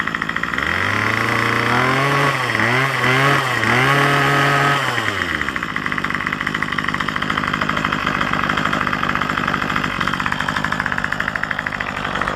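A small two-stroke Craftsman string trimmer engine revs up and down a few times close by, then settles into a fast, steady, buzzing idle set slightly high.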